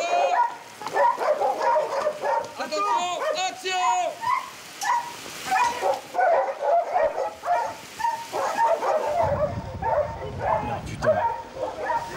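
A dog on a rainy night film set barks repeatedly in yelping bursts with some whimpering, fairly close, while people talk throughout.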